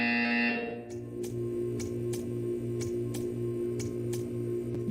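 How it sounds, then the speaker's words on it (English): Buzzer in the video game Portal 2, a sustained electronic tone that cuts off, followed by a steady low drone with regular ticking pulses, alone and clear. "When you hear the buzzer, stare at the art."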